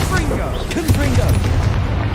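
Explosive booms from the Confringo blasting spell crackle during a Hogwarts Legacy fight against spiders. The bursts are loud and close, layered over a speaking voice.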